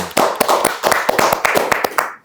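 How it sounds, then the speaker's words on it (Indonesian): A small group claps for a young Indonesian taekwondo athlete, a quick burst of close, sharp handclaps that stays dense and steady for a couple of seconds before cutting off. "Tepuk tangan dong."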